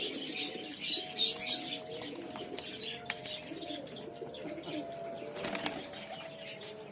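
Flying and fancy pigeons coo and chirp during night feeding, with bursts of wing flapping and soft repeated calls at close range.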